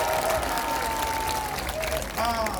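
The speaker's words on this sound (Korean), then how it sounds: "박수 한번 해, 박수 한번 해." Crowd clapping at an outdoor political rally in Gwanghwamun, Seoul, a moderate wash of applause with a speaker's voice and other voices carrying over it.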